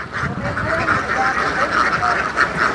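Ducks raised on a rural Vietnamese farm quacking repeatedly in a flock, a near, continuous chatter of overlapping nasal calls with a voice faintly mixed in underneath.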